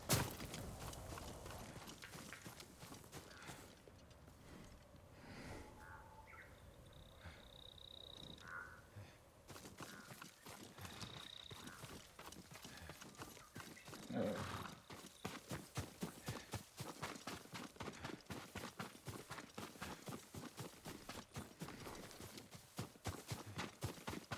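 Horse hooves in the video game Ghost of Tsushima clip-clop at an even walking pace, faint and slightly distant, over a quiet outdoor backdrop of bird and frog calls.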